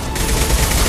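Rapid gunfire in the video game Mass Effect 2 rattles as a dense, loud burst of overlapping shots lasting about a second, with no talking.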